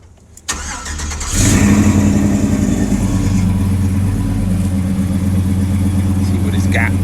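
An old, junky pickup truck engine cranks briefly, then catches and settles into a loud, steady rumbling run close by, with people talking over it.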